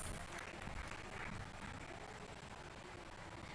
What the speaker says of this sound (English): We can expect some more round of applause from all of you.